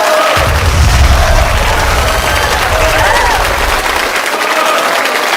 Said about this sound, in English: let's give a round of applause to the sister Chantel Davis